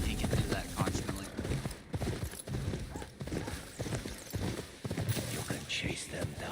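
A horse's hooves clop along in the Ghost of Yotei game in a quick, uneven beat, fairly close, under someone talking throughout.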